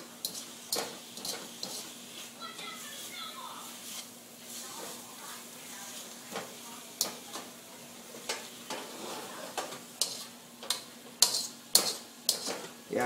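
Thai curried chicken fries in a wok over heat, a quiet steady sizzle broken by frequent sharp clicks and scrapes of a utensil against the pan, growing busier toward the end.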